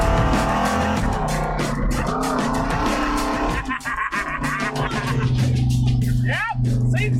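A monster truck fitted with saw-blade wheels roars through a boosted launch, engine revving loud and close with squealing, skidding bursts, while people talk over the noise.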